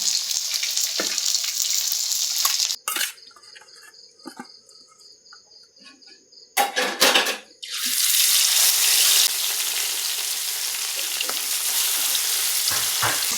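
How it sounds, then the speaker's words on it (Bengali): Fish frying in a wok gives a loud, hissing sizzle that drops away for a few quieter seconds in the middle, then surges back up steady and close, with no voices over it. "মা এখানে মাছ ভাজছে কড়াইতে"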